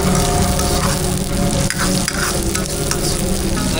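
Onions and green chillies fry in hot oil in a vegetarian restaurant kitchen in Karachi, giving a loud, steady sizzle with stirring scrapes and a few brief dips, and no voices.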